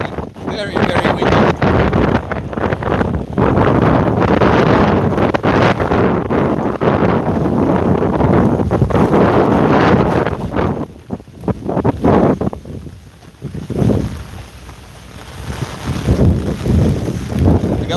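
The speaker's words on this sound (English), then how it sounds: "Wind's pretty strong right now." Strong typhoon wind in Ulsan, South Korea roars and buffets the microphone in heavy, continuous gusts, easing briefly before surging again with rough, blustery bursts.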